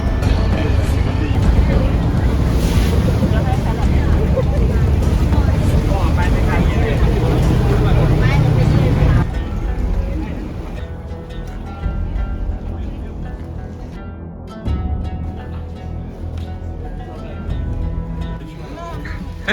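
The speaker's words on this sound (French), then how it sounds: "On va monter dans le bateau" Motorboat ride on the sea in Thailand, a loud steady engine drone with wind and water rushing, easing to a lower, rougher rumble midway, with voices talking over it.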